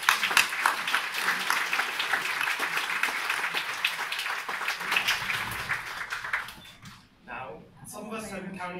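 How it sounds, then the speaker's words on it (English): An audience at a school graduation ceremony applauds with sustained, dense clapping that tapers off after several seconds, giving way to a voice speaking. "So please offer them an even bigger round of applause."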